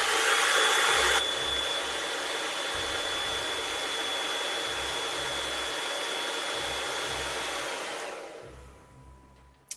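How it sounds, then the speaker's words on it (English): An old hair dryer blows a loud, steady rushing whoosh with a thin whine for several seconds, then shuts off and winds down near the end, no talk. "let's get the old hair dryer on the go"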